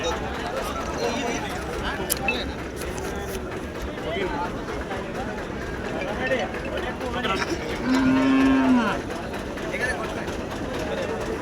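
A Jersey cow at a busy cattle market in Siddipet lets out one loud, drawn-out moo near the end, over constant crowd chatter and livestock noise.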